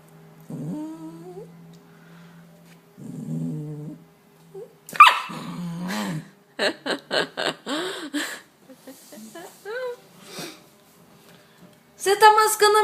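A pet dog named Lisa growls and whimpers with short yips while chewing on an eraser, the sounds coming up close in bursts between stretches of someone talking.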